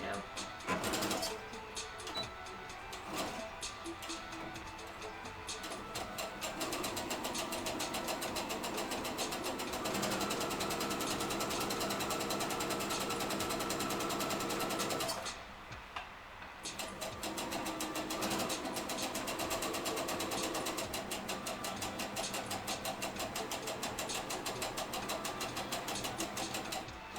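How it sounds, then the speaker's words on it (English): A sewing machine runs a long stay stitch along a seam allowance, its rapid steady needle chatter close and loud for several seconds, pausing briefly before resuming, with a voice talking at the start. "I'm just going to stitch like kind of along the width of the foot that I have in here right now"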